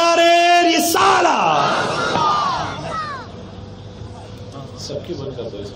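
A crowd at a religious conference in Ballari answers a leader's call with loud unison shouted slogans of Nara-e-Takbeer, a raised lead voice followed by a swelling collective roar that fades into hubbub.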